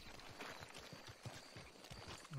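Horse hooves clip-clopping through marshy ground in the video game Red Dead Redemption 2, a steady run of soft repeated hoof strikes at moderate distance, heard alone without talk.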